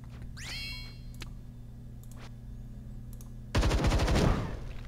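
A sentry turret in the video game Templar Battleforce fires a loud rapid burst of automatic gunfire near the end, after sparse shots and a steady mechanical hum.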